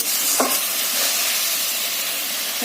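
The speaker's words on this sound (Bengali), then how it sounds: "এখানে দেখো মশলা কষাচ্ছি নিরামিষ হচ্ছে" Spice masala frying in a pan with potatoes and peas for a vegetarian dish, giving a steady close sizzle with a few scraping stirs and no talking.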